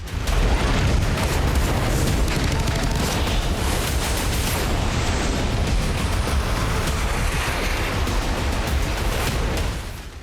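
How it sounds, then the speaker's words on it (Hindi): Indian Navy anti-ship and anti-aircraft guns fire at sea during a war exercise, a dense, loud, rumbling barrage of booms blending into continuous roar for about ten seconds. "ताबड़तोड़ एंटी शिप और एंटी एयरक्राफ्ट फायरिंग के जरिए इंडियन नेवी के हर हथियार"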